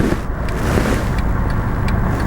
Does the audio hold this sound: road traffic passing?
yes